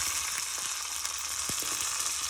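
A tempering of curry leaves, green chillies and ginger fries in hot oil, giving a steady soft sizzle with a few faint pops and stirring clicks, no voices.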